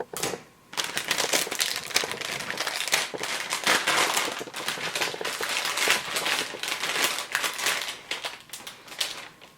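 Plastic packaging of a Dunkaroos sugar cookie mix is torn open, with dense crinkling and crackling that runs loudly and almost continuously, close up, punctuated by sharper rips.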